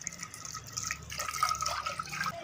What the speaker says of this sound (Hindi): मैंने अपने चावल तरामी में निकाल दिए और पानी इसमें मैंने डाल दिया